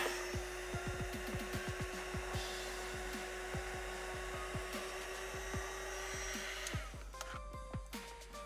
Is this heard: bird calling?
no